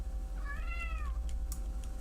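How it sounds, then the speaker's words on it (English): A cat gives a single clear meow, rising then falling, heard alone against a low background hum. "Meow. Meow. Meow."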